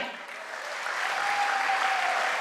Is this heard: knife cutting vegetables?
no